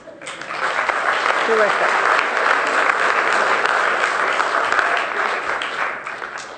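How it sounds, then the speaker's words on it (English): Enthusiastic audience applause fills a city council chamber in Palo Alto, a dense, steady wash of many hands clapping that swells and holds for several seconds before tapering, with a voice briefly heard near the start. "I hope you'll give yourselves an enormous round of applause"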